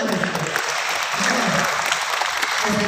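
An audience at a talk on the human brain claps in sustained, dense applause that holds steady for a few seconds, loud and close, with faint crowd murmur mixed in.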